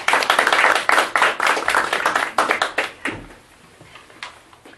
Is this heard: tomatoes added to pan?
no